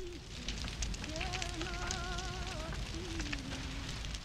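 A fire in a scene from an Andrei Tarkovsky film crackles with a steady stream of small pops and snaps at low volume, while a soft voice or tone hovers faintly above it.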